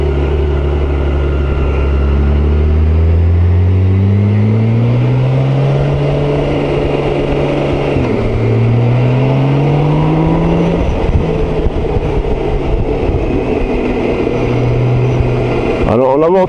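Six-cylinder BMW K1600GT touring motorcycle, a 2022 model, running smoothly and loudly through repeated rising revs and gear changes, with a voice talking over the steady engine note throughout.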